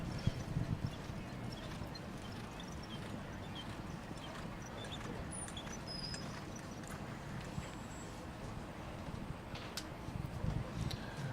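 A Hackney mare pulling a presentation carriage at a combined driving event, hooves clip-clopping in a steady rhythm across the ring, moderately distant, under a constant outdoor rumble of wind and crowd.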